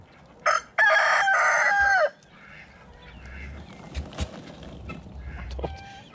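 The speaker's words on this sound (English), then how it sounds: "Jim, that's a chicken." Rooster crows loudly and close, one long strained cock-a-doodle-doo after a short squawk, then softer clucks and scattered bird calls from a backyard flock.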